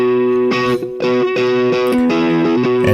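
Electric guitar strums rhythmic chords with a bright, effected tone, a few repeated hits ringing out in quick succession, loud and close.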